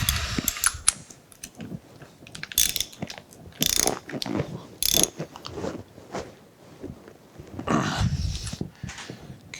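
Bolts on a horizontal milling machine are cranked down with a ratchet during setup, giving repeated close bursts of rapid metallic clicking separated by short pauses.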